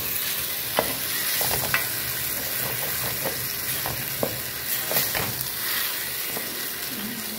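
Tomato puree for prawn thokku fries in a pan with a soft sizzle, while a spoon scrapes and stirs in irregular close clicks and knocks.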